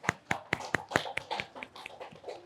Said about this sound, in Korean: 우리 박수 한번 해줄까요?